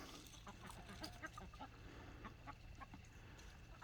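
Faint, quiet clucking from a small flock of Barred Rock chickens near a fence, scattered short calls spread across a low outdoor background.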